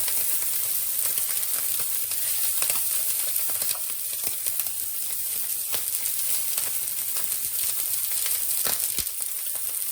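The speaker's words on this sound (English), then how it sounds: "we just want a really quick sear on these prawns" Prawns get a quick sear in a hot pan, a constant close sizzle peppered with irregular crackles and spits that runs unbroken throughout.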